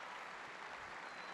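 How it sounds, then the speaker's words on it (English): Spectators at an outdoor senior pro archery shootdown clap after a shot, a short, faint, even patter of applause from a distance. "Crowd reacts appropriately."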